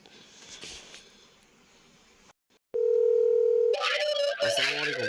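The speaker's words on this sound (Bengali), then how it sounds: "ওই আপুটার সাথে ডাইরেক্ট ওনাকে ফোন দিই।" A telephone dial tone comes through a handset on an outgoing phone call: a steady, loud continuous tone that starts after a brief silence, then shifts into ringing tones.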